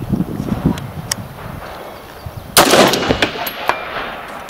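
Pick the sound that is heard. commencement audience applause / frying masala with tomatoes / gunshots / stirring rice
gunshots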